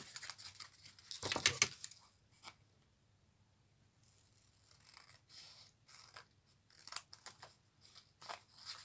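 Scissors snip through wallpaper to trim off the excess while making a paper junk journal folio, a loud burst of quick crisp cuts followed by scattered lighter snips and paper rustles.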